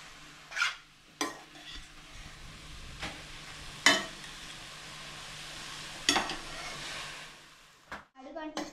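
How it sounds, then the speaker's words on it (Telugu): Gajar halwa of grated carrot being stirred in a pan, giving several separate scraping and clinking strokes against a low steady background, fairly close and moderately soft, with no talk over it. "మధ్యలో కలుపుతూ ఉండాలి"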